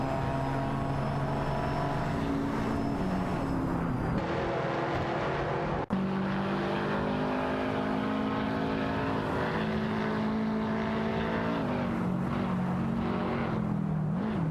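Race car engines drone continuously in a racing video game with AI drivers, a BMW i8 and an Aston Martin DB11 V12 among them, their pitch rising and dipping through shifts, with one abrupt cut partway through.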